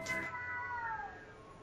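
Several cats meow outdoors beyond a window, one drawn-out, wavering yowl that starts sharp and fades over about a second and a half, heard faintly and at some distance with no talking.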